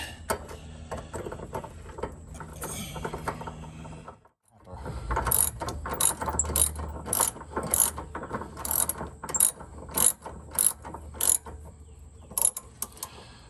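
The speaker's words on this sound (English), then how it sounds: "ratchet it up in there by hand" Close, rapid ratchet clicks in quick bursts while a bolt is tightened by hand on the rear suspension of a 2005 Honda Pilot, with brief pauses between strokes and no talking.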